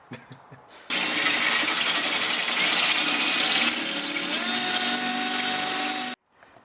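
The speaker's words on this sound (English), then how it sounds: "Drilled a bigger hole." A drill running steadily for about five seconds while widening the hole in a broken bolt during a suspension install, a loud continuous whine that shifts slightly in pitch, then stops abruptly.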